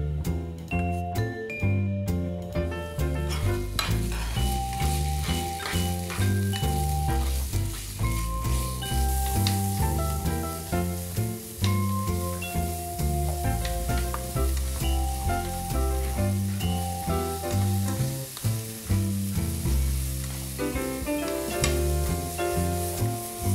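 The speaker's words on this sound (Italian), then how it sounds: "Abbiamo rosolato la carne, ovviamente a una cottura veloce, la carne di coniglio." Rabbit meat and guanciale brown in a pan with a continuous sizzle, heard beneath loud, rhythmic background music that runs throughout.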